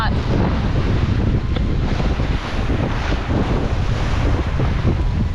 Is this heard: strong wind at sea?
yes